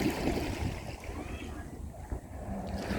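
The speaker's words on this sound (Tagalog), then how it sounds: "Tapos ayan ang alon." Ocean waves roll in at Middle South Bay Beach in Repulse Bay, Hong Kong, at high tide around sunset, making a continuous rushing wash mixed with gusting wind noise on the microphone.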